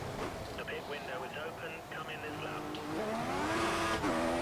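A Formula One car in the F1 2014 racing game at the Singapore Grand Prix, its engine rising in pitch with a strained whine as the tires spin, while a voice talks over it.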